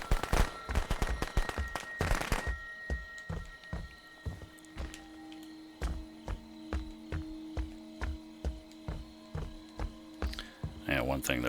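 Firecrackers popping in Friday the 13th: The Game, a rapid crackling burst at the start followed by a steady series of sharp, evenly spaced bangs over a low humming game background.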